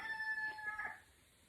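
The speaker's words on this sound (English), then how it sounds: "that rooster" A rooster crows once, a short, faint, distant call with a wavering tone that fades out after about a second.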